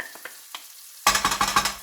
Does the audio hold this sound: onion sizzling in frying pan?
yes